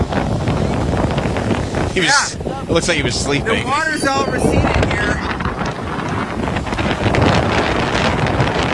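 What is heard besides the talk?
strong wind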